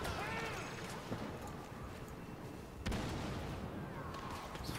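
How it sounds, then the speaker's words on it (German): Bomb explosions in Star Wars Battlefront on the snowy Hoth battlefield, sharp blasts amid continuous gunfire and combat noise, with a strong impact near the middle and a voice talking underneath. "Bombe."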